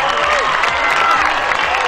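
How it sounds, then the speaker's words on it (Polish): Players and onlookers at an amateur football match applaud and cheer at close range in a brief, dense burst, with voices shouting over the clapping. "wielkie brawa, wielkie brawa"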